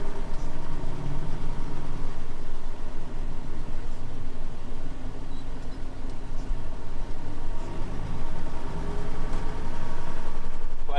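A 3350 loader tractor fitted with a trimmer loader drives around a farm yard, its engine a steady, loud, continuous low rumble with no pauses throughout.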